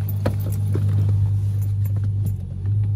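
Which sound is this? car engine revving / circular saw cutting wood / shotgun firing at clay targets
car engine revving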